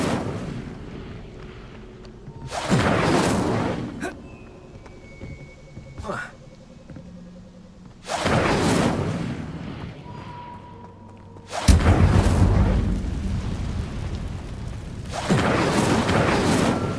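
Incendio fire spells blast repeatedly in the video game Hogwarts Legacy, several loud roaring whooshes, each lasting about a second, with quieter stretches of game ambience between them.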